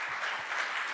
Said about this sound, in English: So I think we should applaud you for that as well.